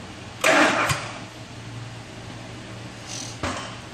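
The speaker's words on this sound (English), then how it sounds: "So I need to tap the engine to get the valves to open, otherwise it'll just blow back out." A 2-valve Ford Triton engine with a blown-out spark plug is tapped with the starter to turn it over: two short bursts of cranking, a longer one early and a brief one near the end, over a low steady hum.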